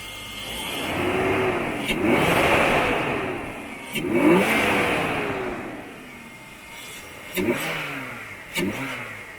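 A car engine fitted with a newly installed cold air intake revs repeatedly, rising and falling in several loud, close throttle blips with a deep intake roar, no talk.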